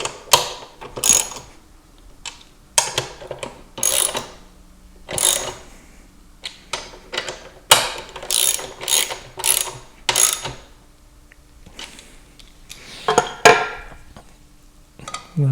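Ratchet wrench with an M12 socket tightening bolts on a motorcycle luggage rack for an NX500, giving repeated short bursts of quick clicking close by, separated by brief pauses, without talk.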